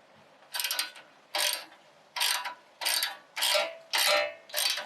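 A ratchet tightens the hub bolts on a Toyota FJ knuckle and hub rebuild, seven distinct bursts of rapid clicking at an even pace, close and clear with quiet between them.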